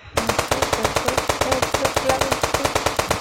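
Automatic gunfire from the Indian Bike Driving 3D video game rattles off in one sustained rapid burst of evenly spaced, loud, close shots.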